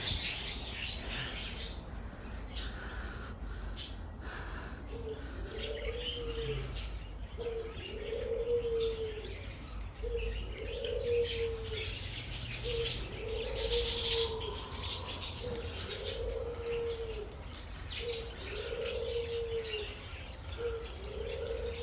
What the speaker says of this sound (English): Quite a lot of birds in there.